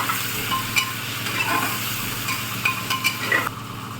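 Egg and potato fry together in a pan with a steady, busy sizzle, broken by a few light clinks and scrapes of a utensil against the pan, close and without talk.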